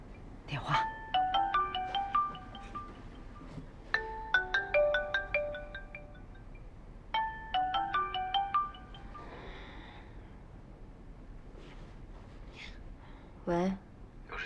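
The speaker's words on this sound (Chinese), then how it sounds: "电话。" A telephone ringing indoors in three separate bursts of a melodic ringtone, moderately loud, with brief sniffs and quiet sounds between and near the end.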